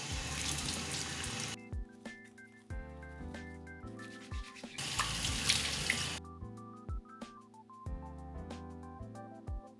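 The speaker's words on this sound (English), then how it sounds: "Now we're gonna wash our face." A bathroom sink tap runs and splashes while a face is washed with a hydrating cleansing gel, close and steady water noise, with soft background music playing underneath and no talking.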